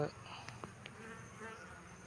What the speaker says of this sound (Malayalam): ഇപ്പോഴും ഈച്ച വെളിയിലേക്ക് പോകുന്നുണ്ട്